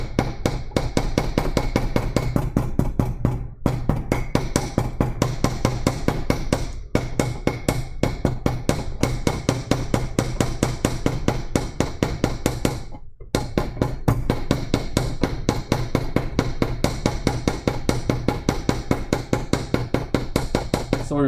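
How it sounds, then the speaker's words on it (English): A carving tool chips the edges of a stone seal being carved in a single-cut style. Rapid, dense clicking taps run steadily and loudly up close, broken only by a few brief pauses. "now we chip the edges"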